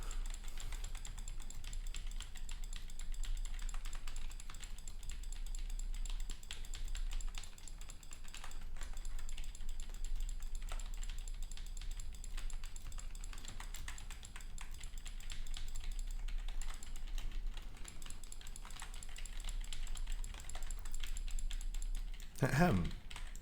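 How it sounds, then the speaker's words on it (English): Computer keyboard clicking during continuous typing, rapid uneven taps going on steadily throughout at moderate level, close to the microphone, with a person talking at times over it. "I thought you want to hear my keyboard clicking."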